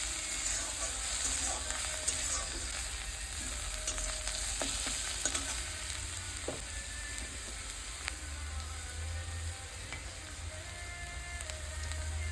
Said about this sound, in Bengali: লাল করে পেঁয়াজটা ভেজে নেব যতক্ষণ কাঁচা গন্ধ বেরোনো বন্ধ না হচ্ছে, ততক্ষণ ভাজতে থাকবো।